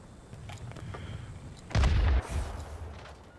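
A rocket striking its target in World of Warplanes, during an F-94 flight: a loud, heavy boom bursts out of a steady engine drone, followed by a shorter rumbling after-blast that fades back into the drone.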